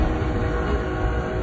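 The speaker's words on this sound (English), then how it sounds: "I think I hear the whistle. Oh, the train's right there." Train sounding its horn as it approaches a road crossing in Columbus Grove, Ohio, where a reefer trailer sits on the tracks: a sustained horn over a heavy, steady rumble of rail cars, with no talk.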